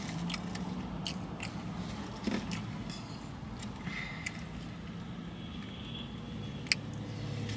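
Someone eats a gyro and fries at close range: soft, wet chewing runs throughout with a few sharper crunchy bites scattered on top, all fairly quiet and without talk.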